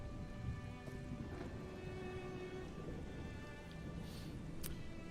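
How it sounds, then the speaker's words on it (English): Rain falling in a video game, a soft continuous patter and hiss of drops with a low rumble beneath and faint steady tones layered over it, quiet and without speech. "Nope, still raining."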